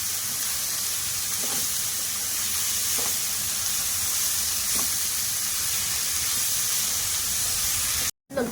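Sliced onions fry over a high flame for chicken biryani, sizzling with a loud, continuous hiss and a few faint stirring scrapes in the pan, then cutting off abruptly near the end.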